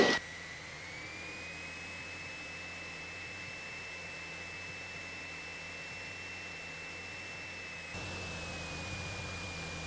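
Cockpit interior of a Cessna 172 during takeoff: a faint, steady engine drone with a constant whining tone, the level stepping up slightly near the end, heard alone without talk.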